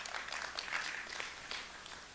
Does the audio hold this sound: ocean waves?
no